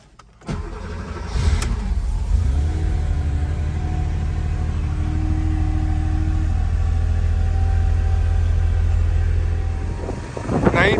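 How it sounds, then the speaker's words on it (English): A 1981 Porsche 911 SC Targa flat-six cold start: a quick crank catches into a loud, steady rumbling idle that holds close and even for several seconds before a brief clatter at the end. "Cold start video."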